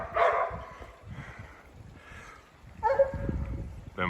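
West Siberian Laika hunting dogs bark in bursts at a mature male bear treed in a ponderosa pine in the Gila Wilderness, New Mexico, the barking moderately distant and echoing across a canyon with brief pauses between volleys.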